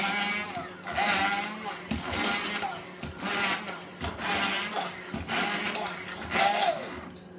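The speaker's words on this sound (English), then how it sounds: "So with the blender, I have found that you can't use it for more than 2 or 3 minutes." An electric kitchen blender whirs through chickpeas in repeated bursts of a few seconds each, loud and close, with brief pauses between runs.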